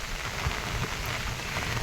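Light rain patters steadily on surfaces, a soft continuous hiss of drops with a few slightly louder splashes, close by and with no voices.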